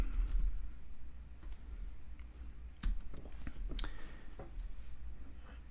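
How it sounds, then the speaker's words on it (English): Quick, light computer keyboard clicks as a search is typed, scattered irregular taps over a low steady room hum with no talking. "let me just type airline"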